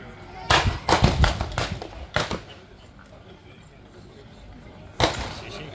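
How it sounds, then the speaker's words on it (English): Blank rounds fired during a WWI tank battle display, a quick cluster of sharp outdoor cracks and bangs, then a pause and one more loud shot. "More rounds going down."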